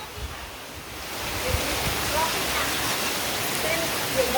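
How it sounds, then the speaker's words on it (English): A raging river swollen by heavy rain near Prigi Beach, Trenggalek, roars as a steady, loud broadband rush of water that builds after the first second and never lets up. "We've got a raging river here now."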